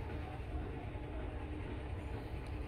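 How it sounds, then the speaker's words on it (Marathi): Four-car metro train rumbles into a station at moderate distance, a steady low roar of wheels and motors with faint rail clatter, fairly quiet. "मेट्रो ट्रेन येत आहे तिकडनं."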